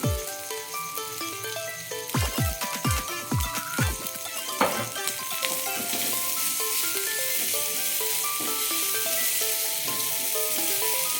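Green chillies for a paneer gravy are tossed into hot oil in a pan. A few sharp clatters and pops at the start give way to a loud, steady, close sizzle that carries on without pause, with no voices.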